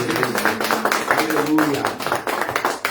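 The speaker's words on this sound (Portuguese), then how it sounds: "Aplauda esse Deus." Congregation applauding at a Brazilian church anniversary and communion service, steady rapid clapping from many hands under a loud preacher's voice and shouts of praise, dense and close.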